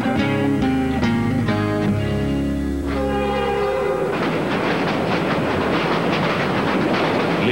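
A Via Rail passenger train rolls along the rails, first with steady tonal hum and horn-like tones, then a dense rushing rumble of wheels and carriages taking over, loud and continuous throughout.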